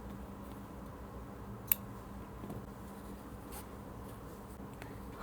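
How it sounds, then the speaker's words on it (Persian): Scissors cutting yarn after crocheting the head of a long-neck frog amigurumi: quiet close rustling of thread with one sharp snip, then faint small ticks, with no talk. "یه پایه خوابیده میبافم و نخم رو قیچی میکنم"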